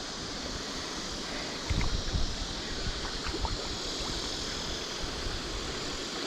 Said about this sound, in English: water's moving fast through here